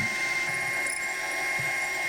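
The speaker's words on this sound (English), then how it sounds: "Now I can bore out the hole for the bearings." Boring out a hole for the bearings in a steampunk Stirling engine's bearing support: a steady machine whir with a high, constant whine, close and even, with no talking.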